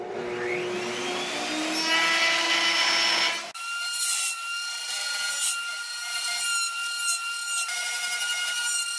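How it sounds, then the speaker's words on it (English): A router table cuts wood for a mortise-and-tenon frame, a loud whining cut with rising tones that gives way partway through to a steady motor hum with bright, intermittent bursts. "Now we're going to go over to the router table and we'll make some cut."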